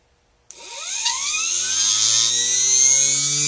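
A Stargate electric motor kicks on abruptly and spins up toward high RPM, a loud rising whine with climbing harmonic tones that settles into a steady, piercing high-speed whir.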